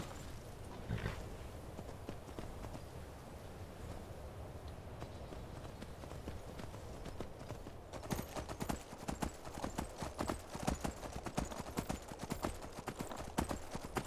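Rhythmic clip-clop of horse hooves in the video game Skyrim, faint at first, then louder and quicker as the horse trots closer, over a low ambient background.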